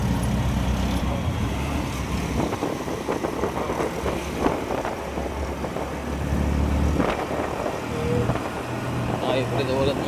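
Auto rickshaw ride through busy city traffic, with a steady engine rumble and road noise throughout, passing vehicles and faint horns, and voices talking over the ride.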